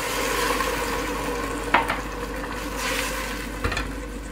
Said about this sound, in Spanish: ahora que ya empieza a hervir el vino